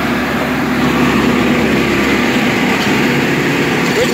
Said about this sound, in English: Big rotor tiller, track rotor tiller, called a Scarifier.